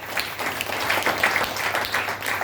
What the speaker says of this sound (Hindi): एक बार ताली हो जाए इस प्रोडक्ट के लिए।